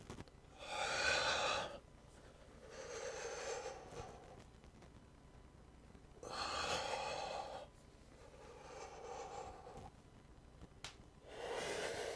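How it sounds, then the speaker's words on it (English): Slow, deep breaths during a yoga session come in long audible waves, three louder inhalations alternating with softer exhalations in a quiet room, close and alone with no talking. "breathing in deeply."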